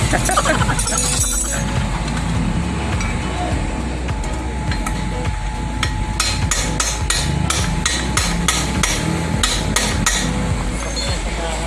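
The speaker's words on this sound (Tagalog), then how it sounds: "Talagang pinupukpok ano, pag hindi na Yan yung matanggal" Rapid metallic hammer strikes on a stuck wheel nut of a Rusi RFI motorcycle ring out in bursts, sharp and close, over a steady low mechanical hum.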